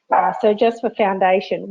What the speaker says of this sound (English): that's my dog in the background